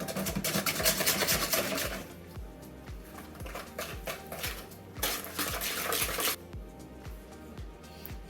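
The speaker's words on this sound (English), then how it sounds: "add the mascarpone to the yellow, of course. Alright, you mix it up together" Mascarpone being stirred into egg yolks in a bowl for tiramisu, producing a rhythmic close-up scraping and tapping of a utensil against the bowl, in bursts of varying intensity with no talking.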